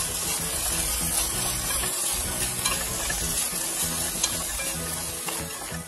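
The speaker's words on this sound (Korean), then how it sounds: "이제 불을 끄고 참기름 한 스푼, 통깨 한 스푼 넣고 섞어주면" Sesame oil and sesame seeds being stirred into stir-fried shishito peppers with dried shrimp in a pan, a steady, close, loud sizzle with continuous scraping and tossing, no voices.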